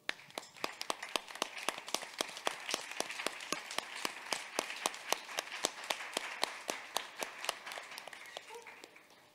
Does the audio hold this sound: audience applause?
yes